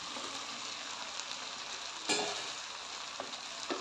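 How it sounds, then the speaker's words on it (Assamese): Boiled cauliflower going into a pan of frying tomato and half-cooked potato for a fish curry: a steady, hissing sizzle with one brief clatter partway through and faint stirring sounds. "এতিয়া তাতে আমি বইল কৰি থোৱা ফুলকবিখিনি দি দিম।"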